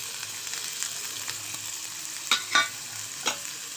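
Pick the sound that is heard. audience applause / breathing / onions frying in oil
onions frying in oil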